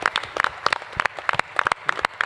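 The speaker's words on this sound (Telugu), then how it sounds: "గట్టిగా చప్పట్లు కొడదాం." Audience at a church festival honouring a priest breaks into applause, close and loud rapid claps with no speech.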